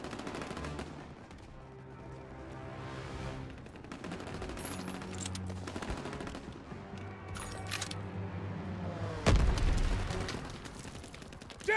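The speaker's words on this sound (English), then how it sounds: "Get on that AA gun, Daniels!" Anti-aircraft gun in the Call of Duty WWII video game firing sustained rapid bursts, a dense continuous rattle of gunfire with booming impacts and a louder blast near the end.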